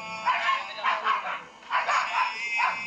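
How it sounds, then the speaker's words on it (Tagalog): A small dog yips and barks repeatedly in quick bursts, fairly close and loud, with a steady background hum. "Ingay ng aso"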